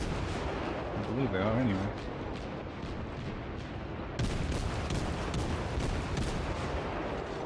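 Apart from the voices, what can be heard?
German cruiser guns firing in the video game World of Warships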